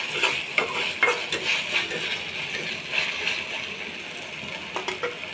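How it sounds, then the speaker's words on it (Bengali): Spice paste with ginger frying in a pan, a bright steady sizzle with scattered scraping and clinks of a spoon against the metal. "মশলাটাকে আমি ভালো করে ভেজে নিচ্ছি।"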